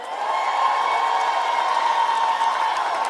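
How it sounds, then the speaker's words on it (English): A crowd claps and cheers at the centennial kickoff celebration at Hartsfield-Jackson airport, a dense, continuous wash of applause lasting throughout. "If you can hear me, clap twice."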